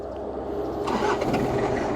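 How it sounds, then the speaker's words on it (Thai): The engine of a Toyota Mighty X SGL pickup cranks and fires up, a short burst of starter churn followed by a rising rumble as it catches, heard close with no voices. "เดี๋ยวผมพามาสตาร์ทรถยนต์กันบ้างครับผม"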